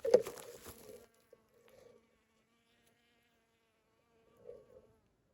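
A bee buzzing around squash flowers in a garden bed, with a close buzz at the start that fades, then faint short buzzes as it drifts off and returns briefly near the end.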